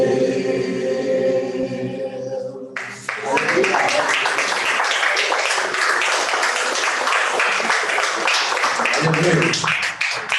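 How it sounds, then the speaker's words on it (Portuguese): Sung music with sustained tones cuts off, then a church congregation breaks into steady dense applause for several seconds, with a low voice rising under it near the end. "Esse aplauso é para o Senhor."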